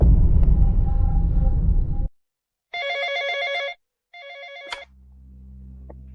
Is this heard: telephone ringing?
yes